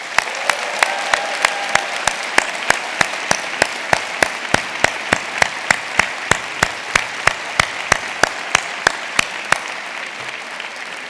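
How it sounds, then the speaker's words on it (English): A large audience at the 2026 University of Michigan Honors Convocation applauds families and friends with steady, full applause for about eleven seconds, and a few sharp, evenly spaced claps ring out over it. "let's give our families and friends a big round of applause"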